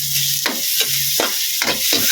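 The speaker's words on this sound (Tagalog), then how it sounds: "Haluin natin" Adobong kangkong, Chinese style, being stirred in a hot pan: a steady sizzle of frying runs throughout, broken by several rhythmic scraping strokes of the spatula, close and loud.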